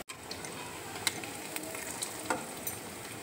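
Water spinach fritters fry in hot oil in a pan, giving a steady soft sizzle with occasional pops and crackles, heard on their own without talk.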